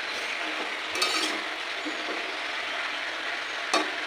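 Mixed vegetables cooking in a small covered kadai give a steady, even sizzle throughout, with a couple of brief clinks of the lid or utensil and no talking.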